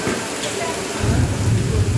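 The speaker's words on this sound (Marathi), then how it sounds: "गाइस सीन देखो जोरातच आहे पाऊस" Heavy rain pours down in a dense, steady hiss, and a low rumble of thunder swells in partway through and carries on to the end.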